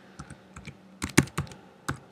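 Short burst of quiet typing on a computer keyboard: a handful of light, uneven key taps over about two seconds, with no voices.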